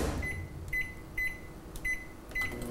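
A microwave oven runs while cooking zucchini pasta, giving off a steady low hum with a repeating faint high whine that swells in short pulses about every half second, close by and without talk.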